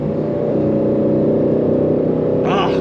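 A 2022 Aston Martin Vantage F1 engine pulls at half throttle, a loud, steady, close-miked rumbling drone that holds without pause, with a brief voice near the end.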